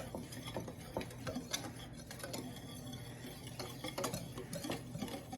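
Flour seasoned with onion powder, black pepper and salt is stirred in a bowl, making faint, quick scraping and tapping as a utensil knocks the sides in an uneven rhythm.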